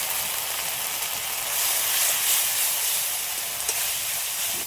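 Spice paste with salt, turmeric and Kashmiri chilli powder sizzling and frying in a pan, a steady broad hiss close up that swells slightly midway, with no talking.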